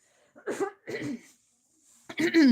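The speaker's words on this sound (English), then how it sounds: "allow me to break for a cough" Two close coughs followed after a pause by a rough throat-clearing cough that trails into a strained vocal sound.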